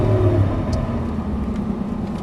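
A Lamborghini Gallardo pulls hard out of a corner at the Exotics Racing track in Las Vegas, its engine a loud, close, steady rumbling drone that holds throughout.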